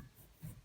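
Pencil drawing a line on paper while sketching an anime head, a soft close scratchy stroke, faint and brief with no voices.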